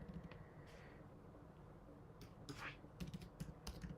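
Quiet, close clicks of a computer keyboard being typed on come in short irregular bursts over a faint background hum.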